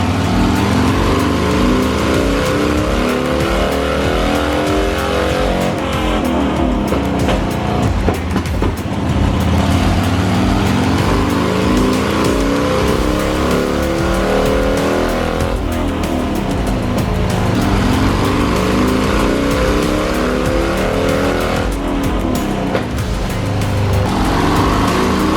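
A 2006 Harley Davidson Dyna motorcycle engine runs loud and close the whole way through, rumbling continuously and rising and falling through repeated revs, with no voices.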